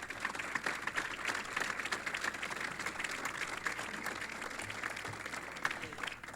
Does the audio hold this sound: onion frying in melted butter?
no